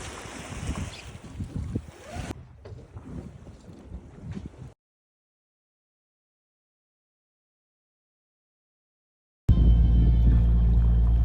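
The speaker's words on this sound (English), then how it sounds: "16, we finally have some wind. We are very, very grateful for this wind." Wind at sea buffets the microphone aboard a sailing boat. A gusty, rushing roar with wave-like noise is followed by a silent gap, then a loud, steady blast of wind returns.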